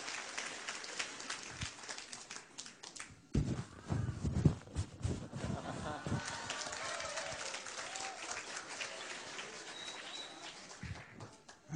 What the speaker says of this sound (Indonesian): Mari tepuk tangan dulu buat Tuhan, Pak Gilbert.